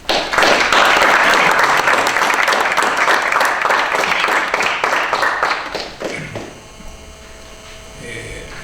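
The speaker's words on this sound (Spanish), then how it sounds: "les pido un aplauso para el maestro" Audience applause at an agrarian law lecture: a dense burst of clapping from a seated crowd that holds steady for about five seconds, then thins out and fades into a quiet, humming room.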